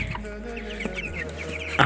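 Young chickens, around 19 to 20 days old, cluck and cheep steadily up close in a coop during winter.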